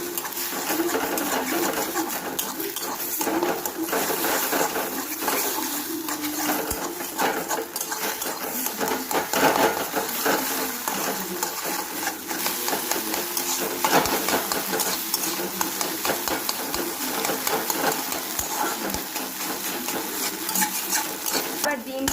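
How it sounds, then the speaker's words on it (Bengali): Two beaten eggs with salt are stirred and scrambled in oil in a pan, a continuous soft scraping and sizzle with the spatula rasping steadily throughout, close and even. "এবার একটু ঝুরি ভাজার মতো করে নিচ্ছি"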